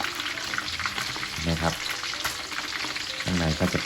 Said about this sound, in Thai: การทอดปลานะโอเค